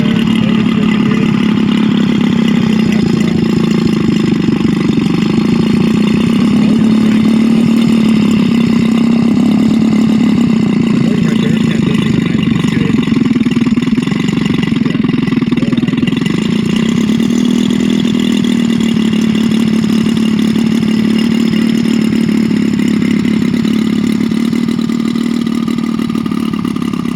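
A DLE 222 gas engine swinging a 32-inch prop on a large RC F4U airplane runs steadily and loudly throughout, a constant droning hum with slight rises and dips in pitch, no voices over it.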